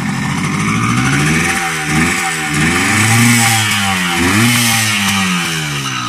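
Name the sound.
Kawasaki KH100 motorcycle engine running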